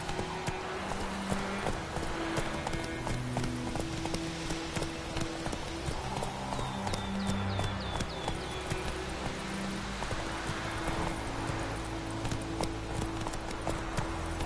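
Roach the horse galloping in The Witcher 3, with rapid, rhythmic hoofbeats drumming steadily throughout over a quiet backdrop of game music.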